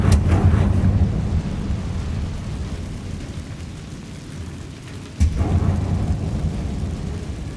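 A Confringo fire spell blast in Hogwarts Legacy opens with a loud rumbling burst that fades into a low roaring tail, then a second sharp blast hits near the end, loud and close without voices.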